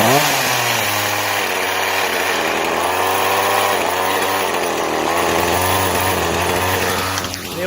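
A gas landscape trimmer engine runs on half choke, a loud, steady high-pitched two-stroke buzz close by for the whole stretch, dipping slightly near the end.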